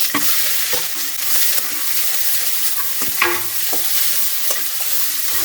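Sliced large onions fry in hot oil in a village-style kitchen pan, giving a steady loud sizzle with intermittent scraping stirs and clinks throughout. No talking.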